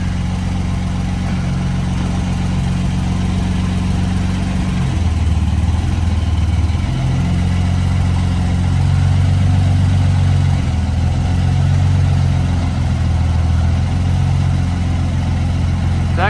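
A 1953 Dodge pickup truck engine runs steadily at idle nearby, a low rumbling drone with shifts in pitch as it revs slightly and settles, with no voices.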